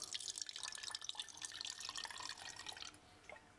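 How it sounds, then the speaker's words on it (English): Water is poured from a jug into an empty metal can, about 20 milliliters. It makes a faint, steady trickle with small splashes that stops just before the end. "I'm going to take this jug, I'm going to pour some water into what is currently an empty can"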